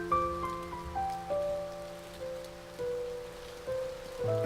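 Steady, soft rain hiss from the video game A Bird Story plays under gentle, sustained musical notes that change pitch every second or so.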